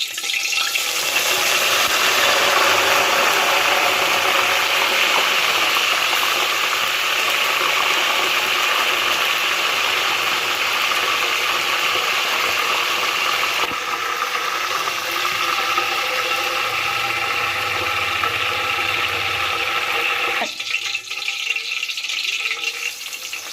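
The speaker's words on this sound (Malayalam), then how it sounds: "നമുക്ക് ഈ കരിവേപ്പിലൊന്ന് പൊരിച്ചെടുക്കാം." Curry leaves frying in hot oil give a steady, loud sizzling crackle that runs unbroken for a long stretch, then drops off sharply near the end.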